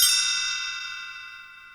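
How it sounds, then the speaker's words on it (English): A single chime rings out clearly as a page-turn signal for a read-along book, a bright bell-like strike that decays slowly and evenly with no voices. "You will know it is time to turn the page when you hear the chimes ring like this."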